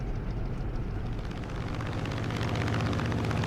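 Grumman F6F-5 Hellcat warplane in Microsoft Flight Simulator, a loud, continuous propeller-engine drone with a deep rumbling throb that grows slightly rougher and louder toward the end.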